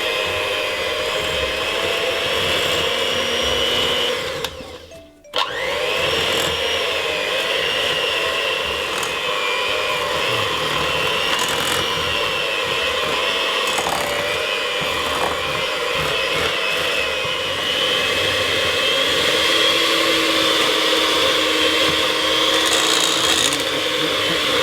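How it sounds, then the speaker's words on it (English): A blender runs steadily through Trinidadian banana bread batter, a loud continuous whir that briefly dips and cuts out near the five-second mark before resuming at full strength. "So we're just going to blend this,"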